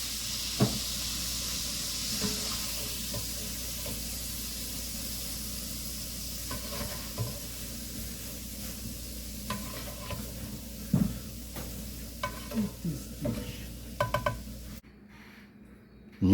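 Sauce being stirred in a hot pan with a steak dish, a soft continuous sizzle under repeated scraping and clattering of a utensil, moderately close, ending abruptly in near silence.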